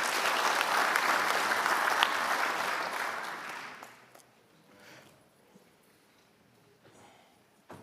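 A conference audience applauds steadily for a few seconds, then the clapping fades away to a quiet room with a few scattered sounds.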